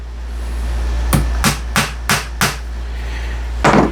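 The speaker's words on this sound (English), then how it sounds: "I just take a couple of finishing nails and I tack those right into place" Six sharp hammer taps driving finishing nails into a wooden template, quick evenly spaced strikes followed by a pause and a final louder blow, close by over a low steady hum.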